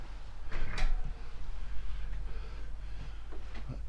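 Old wooden door being opened on a walk in the New Forest at Sway, with a sharp latch click and creak early on, then quieter shuffling and soft knocks in a hushed interior.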